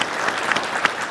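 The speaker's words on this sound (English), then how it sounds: "why don't we give a round of applause again for the panel?" An audience at a career education conference gives a panel discussion a round of applause, dense steady clapping at close range with a few sharper individual claps standing out, no talk over it.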